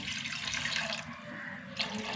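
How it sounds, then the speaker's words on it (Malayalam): Water poured into a pan over a cooked-down mix of mashed tomato, chili powder and salt, a short, faint splashing gush heard alone. "വെള്ളം ഒഴിച്ച് കൊടുക്കും."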